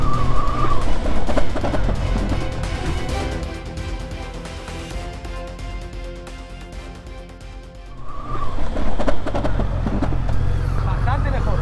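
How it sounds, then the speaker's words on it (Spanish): A motorcycle on a licence-training run is braked hard from about 50 km/h: the engine note winds steadily down over several seconds, then revs back up as the bike pulls away again, loud and close. "Vamos a pegar una frenada fuerte, a ver si ahora."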